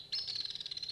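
A short electronic bird chirp played back by a 1989 laptop, a rapid trilling tweet lasting under a second, thin and fairly quiet, with no speech.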